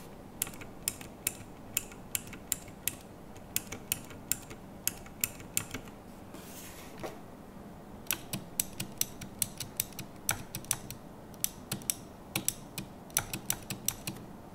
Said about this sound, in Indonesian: perbandingan key-nya gimana sih Otemu yang dipakai dari Phantom dari Techware ini dengan key Cherry MX